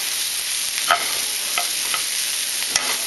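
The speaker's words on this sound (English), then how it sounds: "just mix that up and get mushrooms coated with oil so that it's still cooked" Mushrooms cooking in oil with a pork chop meal, a continuous bright sizzle punctuated by a few sharp clicks of stirring against the pan, close and fairly loud with no talking.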